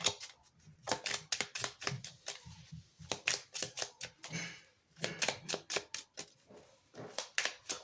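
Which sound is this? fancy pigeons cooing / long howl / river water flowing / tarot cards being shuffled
tarot cards being shuffled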